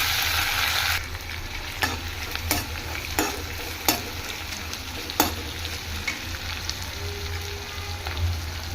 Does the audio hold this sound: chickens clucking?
no